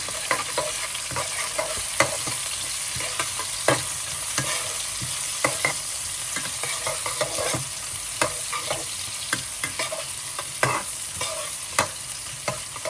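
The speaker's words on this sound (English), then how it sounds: "then you can put in the onions, the chili padi, the green chili. So stir fry again." Onions, chili padi and green chili are stir-fried in a pan for fried bee hoon, a steady sizzle broken by repeated sharp scrapes and knocks of the spatula, close up with no voices.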